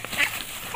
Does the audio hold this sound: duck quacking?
yes